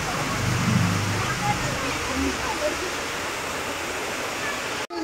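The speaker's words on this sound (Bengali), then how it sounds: "কি জোরে বৃষ্টি হচ্ছে দেখো না," Heavy rain pouring down, a loud steady hiss that continues throughout, with a voice briefly audible early on over the downpour.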